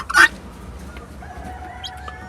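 Indian roosters and guinea fowl on a farm, one sharp loud squawking call up close followed by faint clucking and distant bird calls.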